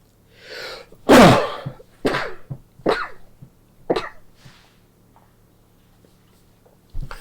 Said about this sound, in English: That's what made me sneeze.